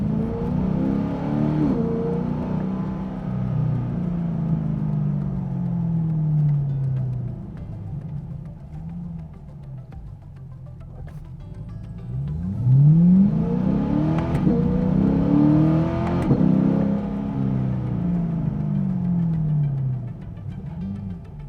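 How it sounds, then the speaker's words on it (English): A C8 Corvette driven in manual track mode, with the engine revving up in long rising sweeps, dropping away on upshifts and downshifts, and a low exhaust rumble between pulls, heard close and steady throughout. "we're gonna do a quick drive of driving in track, manual mode, that way you hear some upshifts, some downshifts, you might even hear some exhaust burble"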